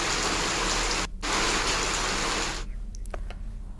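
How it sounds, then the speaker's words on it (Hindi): Heavy rain pours down steadily after a long dry spell in a district of Madhya Pradesh, a loud dense hiss broken by a momentary gap, then thinning out with scattered drips and splashes toward the end. "लंबे समय बाद जिले में अच्छी बारिश हुई, कई घंटों तक बारिश हुई।"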